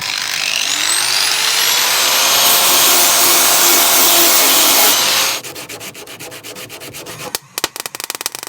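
An angle grinder grinds off a weld on a rusty van conversion, a loud, harsh, steady abrasive whine lasting several seconds before it spins down into scattered rattles and clicks.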